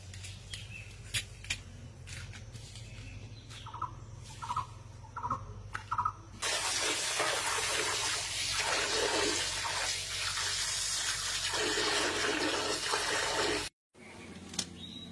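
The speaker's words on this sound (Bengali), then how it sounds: "মাছ কটা সব কাটা হয়ে গেছে এখন ভালো করে পরিষ্কার করে ধুয়ে নেব" Cut swarna punti fish being rinsed clean under running water, a loud steady splashing rush that starts partway through after some small clattering and continues close until it stops abruptly.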